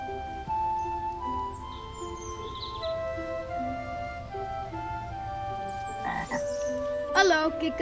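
Frog croaking in a stylised 1958 Dutch film scene, a series of tonal, pitched croaks repeated throughout with a louder rising warble near the end, alone over a quiet background.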